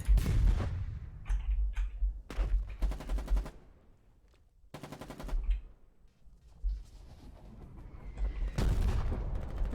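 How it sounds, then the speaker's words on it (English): Artillery and gunfire in the war game Foxhole: heavy booming impacts and rapid bursts of machine-gun fire, some close and loud, others lighter and farther off, with short quiet gaps between barrages. "I hate artillery."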